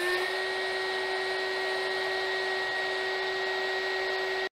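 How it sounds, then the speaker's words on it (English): A small heat gun blows hot air onto a Kydex plastic knife sheath, giving a loud, steady whirring hiss that holds constant for several seconds and then cuts off abruptly. "I got this little heat gun when I bought some heat shrink tubing off Amazon."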